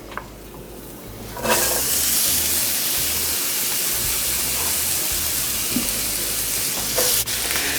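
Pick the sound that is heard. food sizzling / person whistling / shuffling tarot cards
food sizzling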